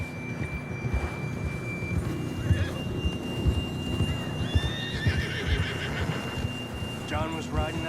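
A horse neighs and whinnies with clip-clopping hooves in a Red Dead Redemption 2 game scene, several whinnies rising near the end over steady hoofbeats and a background tone, with a voice talking throughout.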